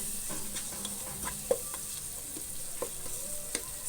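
Mixed vegetables and spices frying in a pan for egg curry, with a steady soft sizzle broken by a few sparse scrapes and taps of a stirring spoon, close and alone.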